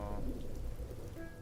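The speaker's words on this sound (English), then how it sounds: "First time it's rained probably in ages." Steady rain falls in a dense, even hiss of drops that holds loud and unbroken for the short stretch, with no talking.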